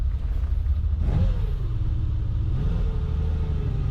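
A 1960s Ferrari with a manual gearbox pulls away, its engine rumbling steadily close by, with a rising rev swell around the one-second mark and another near two and a half seconds.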